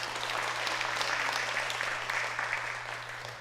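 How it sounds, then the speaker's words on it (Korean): A church congregation at a Wednesday service applauds the Hallelujah choir, a fairly distant sustained clapping over a low electrical hum that tapers off toward the end. "힘차게 박수로 함께 격려하겠습니다"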